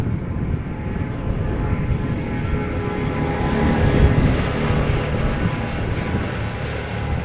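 A jet airplane departing from a runway at Amsterdam Schiphol Airport, heard as a steady, broad low roar that holds throughout and swells slightly around the middle, with no talk.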